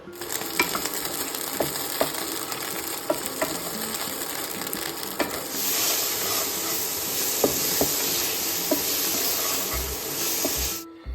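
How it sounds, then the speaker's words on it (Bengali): Corn kernels and peas fry in hot white oil in a pan, with scattered sharp pops and crackles at first, then a steadier, louder hiss through the second half, close by and without talk. "প্যানে সাদা তেল গরম করতে দিয়েছি ওটাতে কর্নার মটরশুঁটিটা দিয়ে ভেজে নেব"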